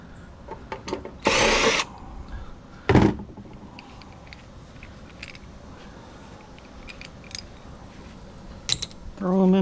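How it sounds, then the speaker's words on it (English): A power drill pulls screws out of an arc welder casing, in two loud whirring bursts separated by quieter clinking and handling noises, then a third burst starting at the end. "We're just gonna start pulling all the screws out of it."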